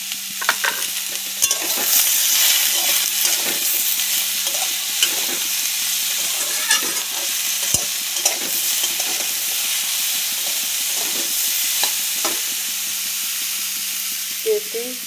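Ingredients fry with turmeric and salt in a hot pan while being stirred, a constant close sizzle with scattered scrapes and clinks of the spoon, and faint voices now and then.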